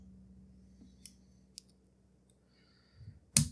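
Wire cutters snip through the wires of a household fan that makes a weird noise and has lost power, giving two sharp, faint clicks about half a second apart and then a louder, closer snap at the end.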